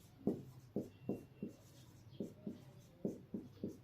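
Pen or pencil strokes while writing out a class 10 quadratic equations solution, a series of short scratchy bursts in uneven clusters, close and clear with no talk.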